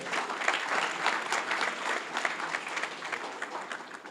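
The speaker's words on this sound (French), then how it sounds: "demander au public d'applaudir les cadres du PRP" Sustained applause from a crowd at a PRP political party event, dense and even clapping that holds at a moderate level throughout.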